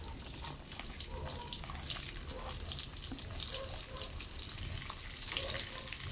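Onions frying in a pan after garlic in a home kitchen, a constant dense sizzle and crackle, steady and fairly quiet throughout with no talking.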